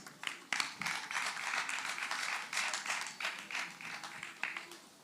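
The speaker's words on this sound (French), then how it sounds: "Applaudissez fortement l'artiste" A large audience at the Miss Universe DRC 2025 pageant keeps up dense, sustained applause for a performing artist. The clapping is steady and fairly distant, with a few louder bursts.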